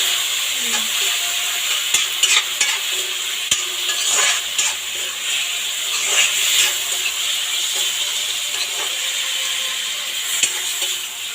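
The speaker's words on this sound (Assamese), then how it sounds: "অলপ কম কমকৈ পানী দি ভাজিব লাগিব বিলাহীটো গলাৰ লগত" Tomatoes sizzle steadily in a hot pan with a little water, a bright hiss broken by occasional scrapes and clinks of a spatula stirring.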